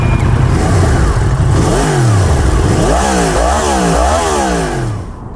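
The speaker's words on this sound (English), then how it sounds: "This time we are riding the Husqvarna Norden 901." A Husqvarna Norden 901 adventure motorcycle engine revs loud and close, with several rising and falling throttle blips over a steady rumble and no talk.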